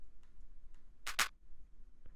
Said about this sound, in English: Then we have like this clap.